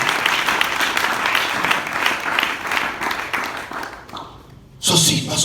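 A youth gathering's audience claps and applauds steadily, the sound fading toward the end before a burst of renewed noise at the close.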